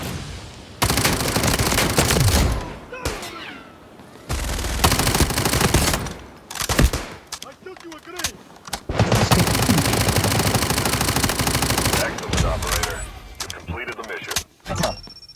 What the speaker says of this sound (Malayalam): നല്ല വെടിയാ